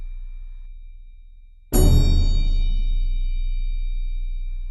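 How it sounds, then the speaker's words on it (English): After a faint low hum, a single loud orchestral hit of a string orchestra with a deep bass drum thump and bright metallic crotales shimmer rings out and slowly decays. "this is what the string orchestra sounds like."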